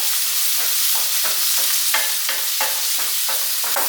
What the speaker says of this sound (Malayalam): ഇനി അതൊന്ന് വഴറ്റിയെടുക്കുകയാണ് വേണ്ടത്